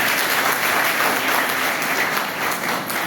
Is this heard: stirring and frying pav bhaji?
no